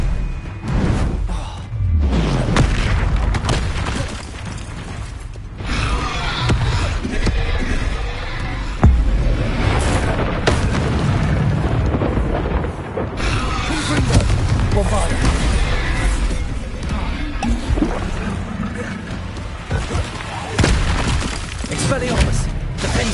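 Hogwarts Legacy spell combat on PS5: a dense, continuous barrage of magical blasts, whooshes, shattering crashes and booms, loud throughout, with spoken voices mixed in.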